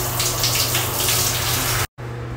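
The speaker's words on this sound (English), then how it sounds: "first things first, we gotta shower." Shower water runs in a steady, loud, close hiss, cut off by a brief silent gap before the spray resumes; no talking over it.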